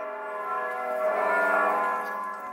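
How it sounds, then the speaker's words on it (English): Church bells ring steadily, with a sustained, rich metallic tone that swells slightly toward the middle, loud and unaccompanied by voices. "The bells remind us of who we are."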